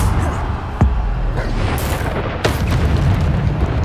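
Bombarda spell blasts in Hogwarts Legacy, with deep booming explosions and bursts over a dense, roaring game soundscape. Two sharp hits stand out amid the constant rumble, loud and close, with no talking.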